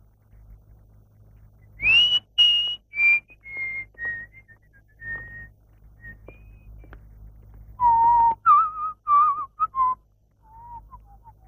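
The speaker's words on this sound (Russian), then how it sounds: "Что это ты насвистываешь" A man whistles a tune near a military guardhouse in a 1960 comedy, in short melodic phrases broken by pauses. The whistling is close and clear, with no other sound.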